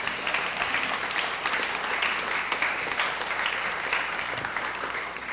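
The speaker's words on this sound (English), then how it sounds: "let's give Dr. Hernandez a big round of applause" An audience at a school-district LCAP meeting gives Dr. Hernandez a round of applause: a steady, moderately quiet wash of many hands clapping that continues evenly from start to finish.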